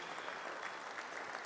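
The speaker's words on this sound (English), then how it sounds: "May we continue to give a rousing round of applause until she gets to her seat." Audience applause at a Zimbabwe SMEs and cooperatives indaba: dense, even clapping from a large seated crowd, continuous and fairly faint, with no talk over it.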